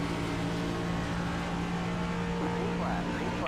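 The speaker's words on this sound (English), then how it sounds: "The revs come up." A NASCAR Next Gen race car in iRacing at Watkins Glen holds a steady engine drone with a low hum, and its pitch starts to climb and waver near the end.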